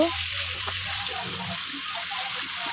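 Boiled water pours steadily into a pan of chicken cooking with tomato and whole garlic cloves, a close, continuous gushing hiss lasting about three seconds.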